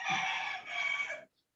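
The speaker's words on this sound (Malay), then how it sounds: "Ayam yang jawab." A rooster crows once, loud and close, with a long ringing call that trails off and stops, heard alone.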